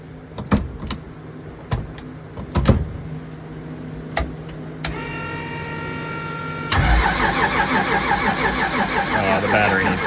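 A rebuilt Chevrolet Camaro starts up: a few clicks and brief cranking lead to the engine catching, then it settles into a steady, full-bodied idle that carries on to the end.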